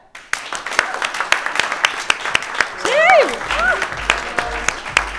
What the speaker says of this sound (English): if we start a round of applause